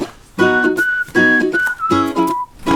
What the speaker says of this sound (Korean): 인트로에 굉장히 흥겨운 휘파람 소리가 나오죠